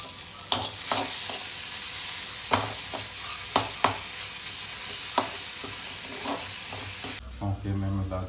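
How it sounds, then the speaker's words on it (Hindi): Tadka of spices tempering in hot oil for dal, a loud continuous sizzle and crackle close up, punctuated by sharp stirring clinks, ending with a lower bubbling sound. "इसको छौंका लगाऊंगा, छौंका तैयार हो रहा है ऑलरेडी।"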